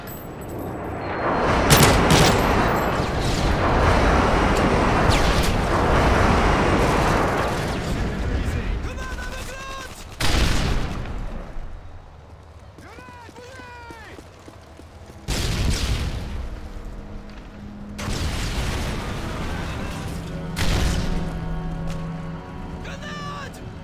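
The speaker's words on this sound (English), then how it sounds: "Friendly MOAB incoming." Friendly MOAB airstrike in a video game: several heavy, loud explosive blasts and booms with rumbling tails, mixed with gunfire and game effects, repeating across the stretch.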